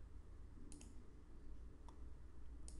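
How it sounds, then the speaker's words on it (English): A computer mouse clicks on a scheduling calendar to create a task: three faint, sharp clicks spaced apart over a quiet background hum. "let's create a task by clicking somewhere on the calendar"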